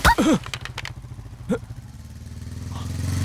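A motorcycle engine idles and then revs, its mid-pitched drone swelling steadily louder toward the end after a brief burst of voices.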